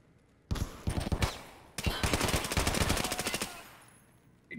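Rapid automatic gunfire from the player's weapon in the video game Escape from Tarkov, two loud bursts of closely spaced shots, the second longer and sustained, heard alone without talk.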